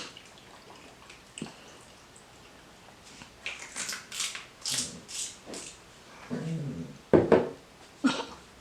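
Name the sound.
dog barking and whimpering, cats around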